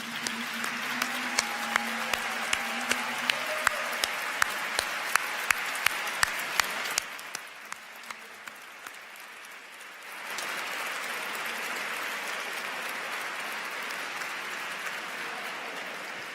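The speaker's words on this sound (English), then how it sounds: "So now I invite all of you who I just mentioned to stand for a round of applause," A gala audience bursts into a steady round of applause, with sharp thumps from a nearby hand or microphone. The clapping thins briefly, then swells again into a full, continuous ovation.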